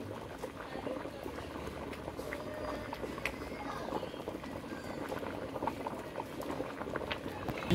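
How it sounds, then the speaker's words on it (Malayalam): Coconut milk bubbles in a pot of ada pradhaman payasam, with a steady close popping and gurgling of the boiling liquid throughout and no voices. "ഇളക്കി ഇളക്കി തിളച്ച് വരും."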